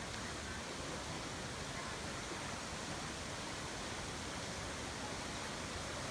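Ephemeral waterfalls pour down the east canyon wall of the Grand Canyon at Havasu Campground after heavy rain, a steady broadband roar of falling water, constant and fairly distant, with no voices.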